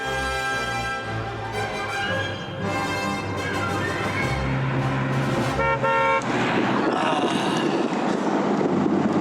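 A car driving on an open country road in Worcestershire, its steady engine hum and road rumble filling the scene at close range, with wind buffeting, brief horn-like tones and a rougher surge of road noise toward the end.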